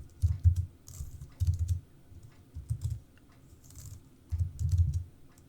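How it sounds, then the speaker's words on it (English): Several short bursts of typing on a computer keyboard while entering a terminal command, soft clustered key clicks in groups with brief pauses between them, close and fairly quiet. "So you're just going to type sudo nano"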